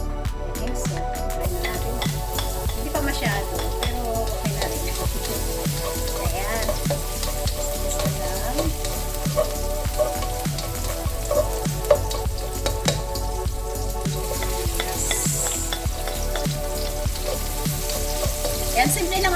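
Olive oil sizzling and frying steadily in a large pan, a dense continuous crackle with occasional stirring scrapes, close and fairly loud with no talking.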